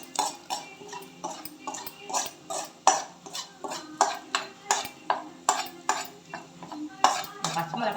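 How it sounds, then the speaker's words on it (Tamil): A spoon clinks and scrapes steadily around a metal pan as tempering is poured into a potato dish and stirred in, making quick bright taps in an even rhythm, close and moderately quiet with no voices. "நம்ம தாளிச்சதே இதில் கொட்டிடலாம்"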